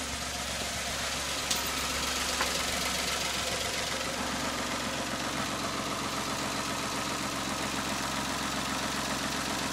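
A Citroen C1 engine idles steadily and fairly quietly, a low even hum with a faint rhythmic knock running throughout, with one brief tap early on.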